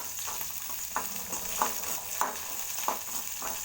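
Ginger and green chillies are sautéed in oil, a continuous soft sizzle with regular spoon strokes against the pan roughly every half second, close and fairly quiet.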